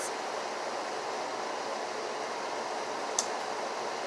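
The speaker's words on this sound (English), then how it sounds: "I have to talk louder a little bit because my air conditioning's on." Steady broadband hum of a room air conditioner running continuously, a constant even whoosh filling the background with one faint click partway through.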